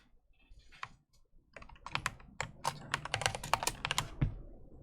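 CSS code is typed on a computer keyboard with quick, irregular bursts of close, crisp key clicks, sparse at first and then dense, in a quiet room with no talk.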